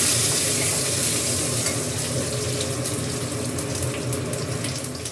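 A steady whooshing hum of a kitchen chimney exhaust hood runs continuously while fenugreek and red pumpkin cook, with faint sizzling and clinking underneath.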